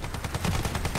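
Rapid pistol shots from the video game The First Descendant fire in a steady, evenly spaced string, loud and close for about a second.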